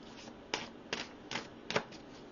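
Tarot cards being shuffled and pulled, soft quiet riffling flicks in a few short bursts, close and isolated.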